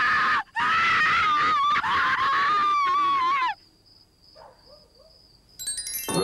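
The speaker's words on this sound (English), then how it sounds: "you will enjoy the dubbed-in screams in The Wild Mouse" Loud, shrill overdubbed screams from a carnival horror film ride scene called The Wild Mouse pile up for a few seconds, then cut to a quiet stretch with faint insect-like chirping and a thin tone.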